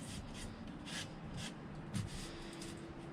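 Old plywood being scraped off the wooden aft deck of a Tahiti gaff cutter sailboat, heard as quiet repeated rasping strokes in a steady rhythm, close by and without talk.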